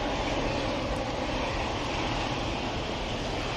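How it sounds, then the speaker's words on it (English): KLM Boeing 737 arriving at an airport, a steady distant jet rumble and hiss with an even level from start to end, no talking. "Got the KLM arriving at 737."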